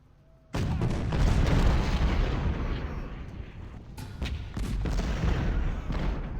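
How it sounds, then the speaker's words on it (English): Artillery fires in the Ultimate General Civil War video game, a sudden heavy barrage of deep, rumbling booms that runs on without a break. Sharper cannon blasts punch through the roar at irregular intervals. "Shoot the artillery!"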